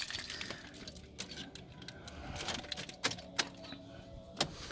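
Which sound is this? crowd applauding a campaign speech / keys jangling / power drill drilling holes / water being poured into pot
keys jangling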